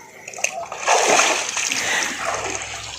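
Bathing splashes burst up near the microphone, a loud flurry of splatter and slosh that swells and fades over a few seconds, with faint voices in the background.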